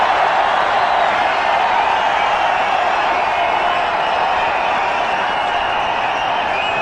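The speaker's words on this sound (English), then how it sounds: "Crowd loves it." A stadium crowd roars steadily at an India versus Australia cricket match after a boundary, a constant dense wash of cheering and noise with no breaks.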